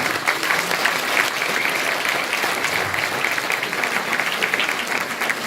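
A hall crowd at a municipal New Year's greetings evening applauds continuously and evenly, a thick wash of many clapping hands that neither builds nor fades.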